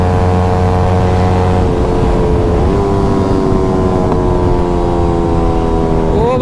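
A motorcycle engine drones loudly and steadily with exhaust note through a ride, its pitch rising and shifting near the end.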